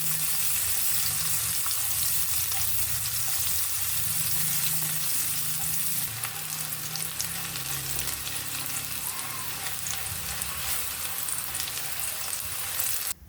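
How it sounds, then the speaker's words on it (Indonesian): Sliced shallots and garlic sizzle steadily in a hot pan while being stir-fried, a loud, continuous frying hiss with occasional scraping stirs and no talk, close up in a home kitchen. "Tumis terlebih dahulu irisan bawang merah dan irisan bawang putih. Ditumis, digonsreng-gonsreng sampai harum, sampai layu."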